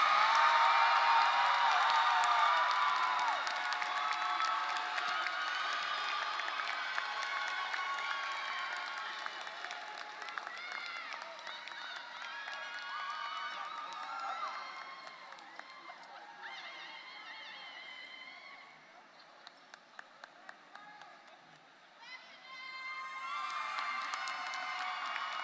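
A large audience at the Benjamin E. Mays High School commencement in Atlanta applauds and cheers, loudest at first with whoops and shouts, then fading to scattered clapping before swelling again near the end.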